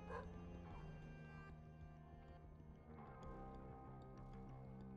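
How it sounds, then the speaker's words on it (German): A dog barks and whimpers in The Binding of Isaac: Repentance video game, a few short tonal yips and whines over a layered game music backdrop, moderately quiet, with no speech. "Warum bellt er?"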